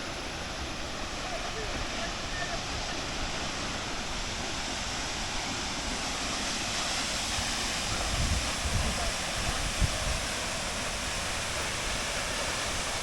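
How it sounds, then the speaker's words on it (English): Steinsdal waterfall in Norway rushes with a loud, steady broadband roar that fills the scene without pause, the water's constant wash dominating throughout. "See, to me that's a stunning waterfall."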